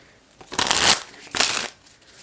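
Two quick riffles of a deck of playing cards being shuffled, crisp and close, separated by a short pause.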